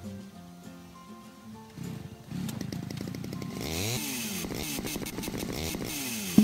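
A chainsaw in the game House Builder starts with a low idle, then revs up and cuts loudly and continuously, its pitch rising and falling as it bites in.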